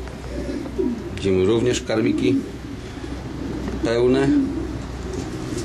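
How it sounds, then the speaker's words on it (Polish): Young pigeons coo in a pigeon loft, with a few rolling coos in short bursts close by while someone talks over them. "To jest gołębnik dla gołębi młodych, a zimą tu są oddzielane samiczki."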